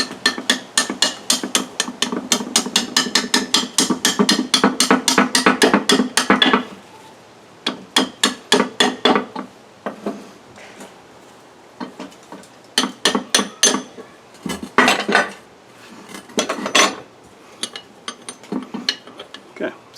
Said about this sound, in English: with that pin out, the shift mechanism, shifter shaft should tap out